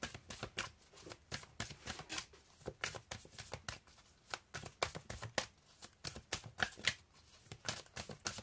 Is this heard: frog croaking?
no